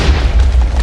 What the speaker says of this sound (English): It has the same chain gun